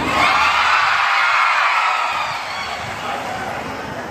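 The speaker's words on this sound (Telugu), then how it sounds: "ఇక మోగించని మీ చప్పట్ల సందడి" Audience at a college function breaks into loud, steady cheering and whooping with crowd noise, sustained throughout and easing slightly toward the end.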